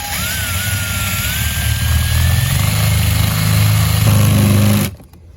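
Power saw cutting through aluminum and into steel during a bus conversion solar rack install, a loud continuous whining drone that deepens as the blade bites harder, then stops abruptly near the end.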